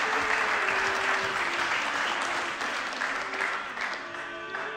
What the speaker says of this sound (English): please give him another warm round of applause